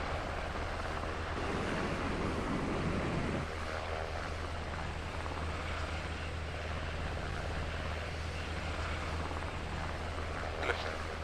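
A helicopter in the military video game Arma 3 produces a continuous engine and rotor drone, steady and fairly close, with a brief rougher surge early on and no speech over it.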